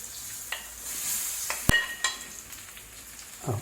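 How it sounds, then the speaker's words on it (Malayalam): Food being stirred in a pan while cooking an iftar meal, giving soft scraping and sizzling with a few sharp clinks of a utensil against the pan, fairly quiet and without talk. "ഇട്ട് നല്ല വൃത്തിയൊന്ന് ഇളക്ക്."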